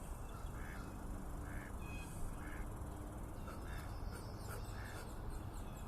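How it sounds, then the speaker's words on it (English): A duck quacks outdoors in Dartmouth, about half a dozen short quacks spaced through the clip over a steady wash of wind-like background noise, with no talking. "I hope you can hear the duck quack."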